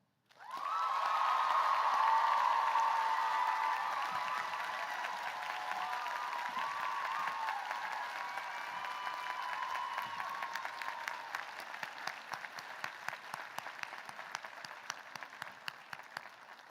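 A large audience at a college commencement bursts into sustained applause with some cheering. It swells quickly, then thins into scattered individual claps toward the end.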